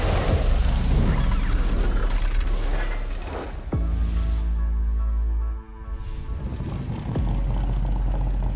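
A 1946 Ford Thames truck engine running at a crowded summer car show, a loud, steady low mechanical roar close by with a brief dip and rev change partway through.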